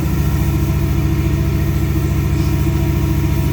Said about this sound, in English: here you can see the air blowers I was talking about